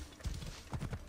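Horse hooves in the Assassin's Creed Origins video game, a short quick run of close clip-clop hoofbeats, about four or five strikes in a brisk rhythm.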